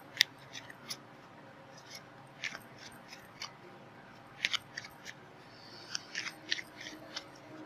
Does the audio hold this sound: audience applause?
no